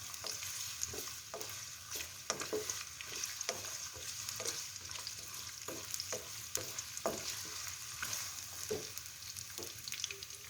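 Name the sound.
onions sautéing in oil in a pan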